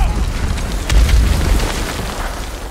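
A heavy in-game explosion from enemy fire in Ghost of Tsushima, set during a raid on Iki Island, gives a deep rumbling boom that swells in the middle and lingers under continuous battle noise.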